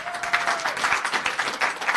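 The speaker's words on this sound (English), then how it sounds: "So thank you for the applause." Steady applause from a crowd at a town council meeting, many hands clapping at once in a dense, continuous patter lasting a couple of seconds.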